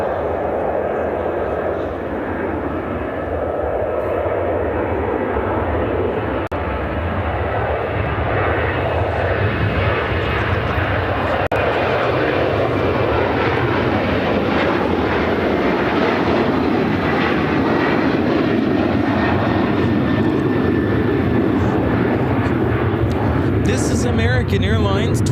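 At Chicago O'Hare a Boeing 737-800 airliner takes off, its loud sustained engine roar gradually shifting in pitch as it climbs away, with people talking over the noise.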